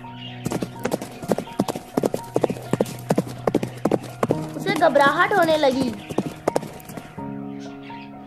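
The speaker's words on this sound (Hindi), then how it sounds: "एक आवाज़ सुनाई दी, बहुत सारे घोड़ों की आवाज़" Many horses' hooves clip-clop in a steady rhythm through a forest setting, joined by a horse's whinny midway, with a person speaking over the hoofbeats.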